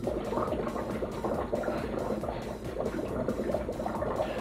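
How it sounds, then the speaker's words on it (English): Dry ice dropped into hot, boiling water mixed with blue detergent churns with steady, dense bubbling and fizzing, loud and close, with no break. "It's actually bubbling because the dry ice is so cold, mixed with the boiling water"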